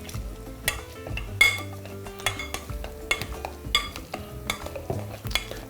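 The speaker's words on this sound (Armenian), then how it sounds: "Տրորում ենք, այսինքն խյուսի ենք վերածում։" Boiled potatoes being mashed in a glass bowl, with irregular clinks and scrapes of the utensil against the glass over a soft, squashing stir, close and steady with no talk.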